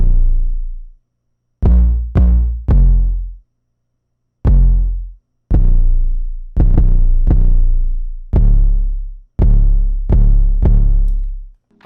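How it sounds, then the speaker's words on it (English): An 808 bass pattern for a rage-style trap beat: a run of deep, booming sub-bass hits, each one decaying slowly, landing in an uneven syncopated rhythm with short gaps between them. Loud and alone, with no voices. "Then lastly, guys, we have the 808 pattern, which is going to sound like this."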